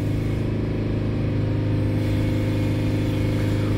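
Mitsubishi L200 engine, with an overloaded DPF, held at a steady 3000 RPM; a loud, even mid-pitched drone continues without change and with no voices.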